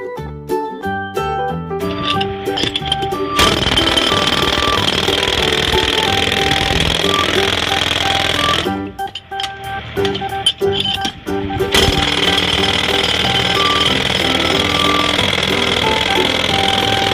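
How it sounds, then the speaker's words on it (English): A toy Black & Decker jackhammer from a kids' hand-tool play set, running in a loud, buzzy electronic loop with tonal beeps, stopping briefly partway through and then starting up again. "Jackhammer."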